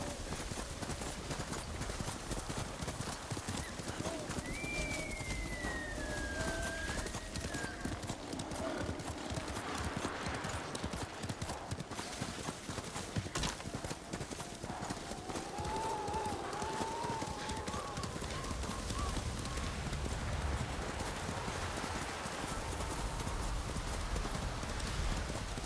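Horse hooves clip-clop steadily through a ride in Ghost of Tsushima, close and continuous under ambient game sound, with a horse whinnying briefly and people talking at moments.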